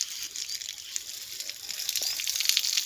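Water sprays from a hose over a bull being washed, a continuous close, moderately quiet splashing and gushing with small irregular spatters and no talk.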